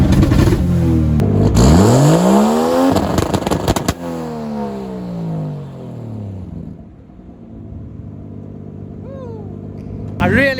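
A turbocharged Mercedes W203 engine revs hard, climbing and falling in sweeping pitch as it bounces off a 5,500 RPM limiter, loud and close, then settles to a lower idle rumble with a brief burst at the end.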